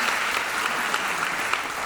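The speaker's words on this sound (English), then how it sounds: "Give a round of applause." Dense applause from a graduation ceremony crowd at a high school's inaugural commencement, a loud, steady roar of many hands clapping without pause.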